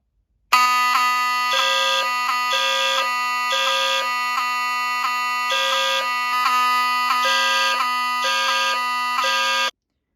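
A fire alarm system under test sounds continuously for about nine seconds, a steady tone with a rhythmic pulsing horn pattern repeating over it, loud and close.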